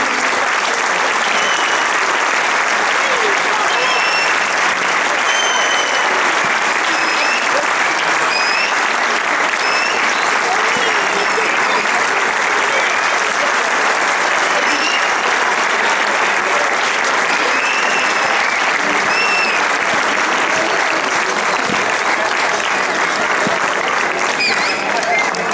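Sustained applause from a crowd at a youth football tournament prize ceremony, a dense steady wash of clapping lasting the whole stretch with a few voices and cheers mixed in.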